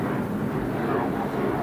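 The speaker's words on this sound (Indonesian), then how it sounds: "Ada suara pesawat, teman-teman," An airplane flying overhead gives a steady, droning engine roar that stays present throughout the short stretch, with people talking over it.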